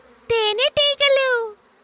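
A voice mimics bees buzzing in a Telugu children's cartoon, making a few loud, drawn-out droning buzzes with brief gaps between them. The last buzz is long and slowly falls in pitch before fading.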